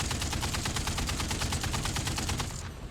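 Rapid burst of M4A2 Sherman tank gunfire in the IL-2 Tank Crew video game, a loud, dense string of evenly spaced shots like machine-gun fire, continuing steadily for nearly three seconds before cutting off.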